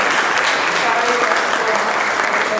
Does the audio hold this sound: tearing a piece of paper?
no